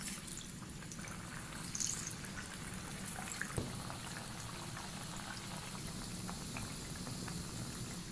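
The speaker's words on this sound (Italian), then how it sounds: "Olio per friggere deve essere ben caldo, infatti guardate come sfrigola" Panelle, Sicilian chickpea fritters, sizzle in hot frying oil with a steady, faint bubbling crackle that carries on evenly from start to finish with no talking.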